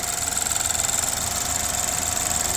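A 2014 BMW 328i F30 with a failed alternator idles steadily, its engine giving an even, close mechanical drone with a faint rhythmic pulsing and a high whine above it.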